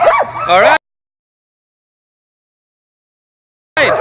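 Excited sled dogs, long-distance racers kept in a summer dog yard of about 140 dogs, yip and bark in a short loud burst, then fall silent before a second burst begins; a voice speaks briefly.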